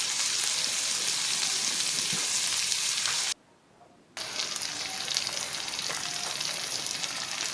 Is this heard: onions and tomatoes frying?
yes